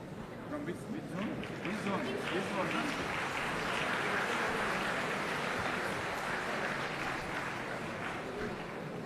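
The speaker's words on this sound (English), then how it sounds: "Please don't stop applauding the children." A large audience at a school science prize ceremony at IIT Kanpur applauds the children in a steady, continuous wash of clapping, with voices mixed in under it.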